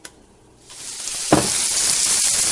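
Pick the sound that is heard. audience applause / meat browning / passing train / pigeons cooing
meat browning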